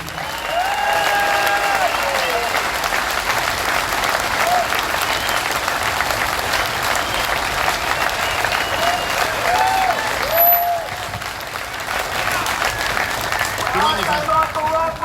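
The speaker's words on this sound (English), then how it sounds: "So let's give them all a big round of applause." A union community rally crowd claps loudly and continuously, with cheers and voices rising through the applause.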